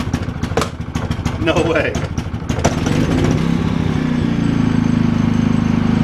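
A Harbor Freight generator, cold after sitting six months, cranks once with a short pull and catches, settling into a loud steady running drone; a person speaks briefly over it.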